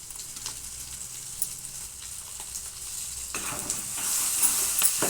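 Crushed garlic, green chillies and dried red chillies frying in oil, a quiet crackling sizzle with scattered stirring clicks that grows louder and brighter toward the end, no voices.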